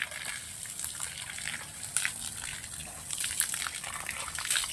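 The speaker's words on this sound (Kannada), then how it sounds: "ಇವಾಗ ಪಂಪ್ ಮಾಡಿ ತೋರಿಸ್ತೇನೆ ಇದರಿಂದ ಯಾವ ರೀತಿಯಾಗಿ ನೀರು ಬರುತ್ತೆ ಅಂತ ನೀವೇ ನೋಡಿ" Water gushes from a manual hand pump drawing from a well on a farm, a steady broad splashing rush that swells and surges slightly with each stroke.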